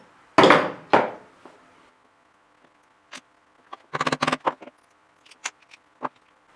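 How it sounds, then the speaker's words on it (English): A small hammer taps metal differential parts from a 124017 model car back together: a few sharp close knocks, then scattered quick clusters of lighter taps separated by silence. "I've used my hammer to put it back together"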